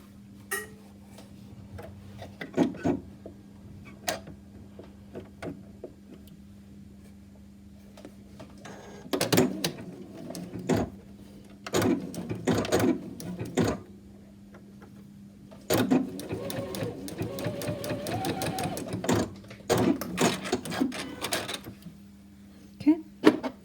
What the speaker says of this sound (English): So we are going to stitch on that red line